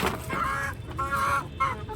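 Fayoumi chickens clucking at close range, a few short repeated clucks in quick bursts, fairly faint with no talk.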